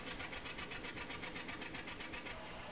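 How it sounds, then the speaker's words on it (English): A degasser's vacuum pump motor on a drilling rig runs steadily, with a fast, even mechanical pulsing like a sewing machine, loud and continuous throughout. "Now you can start the vacuum pump motor."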